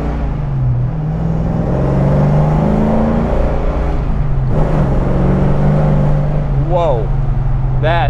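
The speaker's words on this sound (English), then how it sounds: "That way we can accelerate again and go." A 1972 Chevrolet Chevelle SS454 with a big-block V8 and cowl induction accelerates from inside the car, its deep engine drone rising steadily and loud, with a few brief whistling sweeps near the end.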